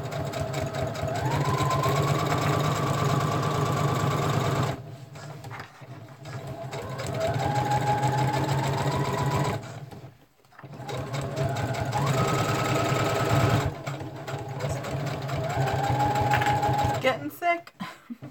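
Sewing machine stitching a fabric cover for a junk trunk kit, running in steady buzzing bursts with brief pauses between seams, close and loud, with a voice talking over it.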